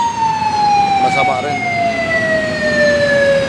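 An ambulance siren wails steadily in traffic with a long, slowly falling tone that continues throughout, loud and close, while a voice speaks briefly over it.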